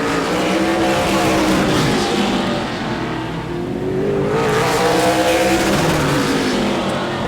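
Super late model race cars roar past on the final qualifying lap at Auburndale, with a loud, continuous engine drone that rises and falls in pitch as the cars sweep by close to the listener.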